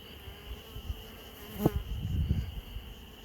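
Honey bees from a package buzz close by in a steady hum while being installed in a hive, with brief louder passes and a few soft handling knocks underneath.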